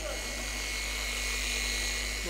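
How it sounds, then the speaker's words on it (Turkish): An orbital polisher buzzes steadily against the paint of a Cadillac in a garage, a continuous dense electric drone held without a break. "Rotary olsa sabit tutup çizik alınabilir ama bu orbital abi. Bu makineyi sürekli oynatman gerekiyor."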